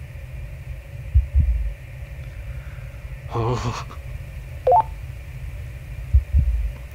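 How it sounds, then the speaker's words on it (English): A low heartbeat thuds in the space-themed game Voyager-19, a few spaced pulses under a constant electronic hum, with a short burst of a voice and a brief tonal blip in between. "Is it just me, or is that heartbeat louder than before as well?"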